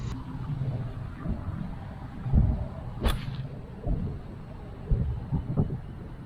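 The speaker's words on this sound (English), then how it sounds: "there's definitely some wind down here" Wind on a golf course buffets the microphone in low, irregular rumbling gusts, with a few stronger thumps and one sharp click amid the steady blustery noise.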